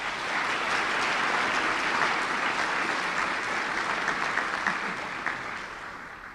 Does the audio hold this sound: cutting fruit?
no